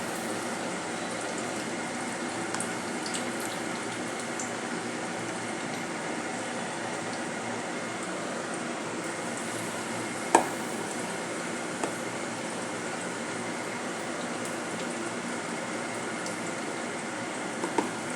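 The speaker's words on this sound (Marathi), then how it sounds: "एकीकडे मिरच्या तळत आहेत दोन मिरच्या तळत आहेत" Green chillies sizzling in hot oil for mirchi vada, a steady, even bubbling hiss held close and unchanging throughout, broken only by one sharp clink partway through.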